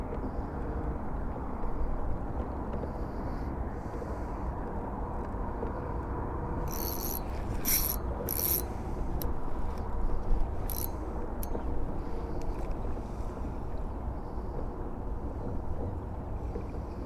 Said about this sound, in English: it's going to take a little bit for my motor to acquaint itself